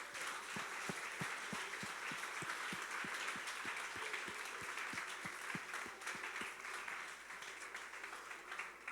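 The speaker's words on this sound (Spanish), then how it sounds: "Denle un fuerte aplauso a Jesús." Applause for Jesus during a Sunday school church service, a steady wash of many hands clapping at moderate volume, with a low, evenly repeating thump beneath it throughout.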